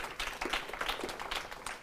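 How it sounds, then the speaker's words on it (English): An audience claps for a wireless industry panel, with brief uneven clapping from a modest crowd rising in small bursts and then thinning out. "Let's give a round of applause for our panel."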